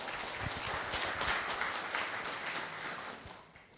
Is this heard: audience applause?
yes